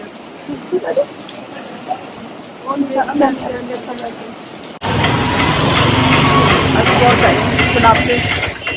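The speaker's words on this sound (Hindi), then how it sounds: "बारिश बहुत तेज हो रही है।" Talk and faint bustle in a market give way abruptly to a loud, dense roar of heavy rain pouring down, continuous and close.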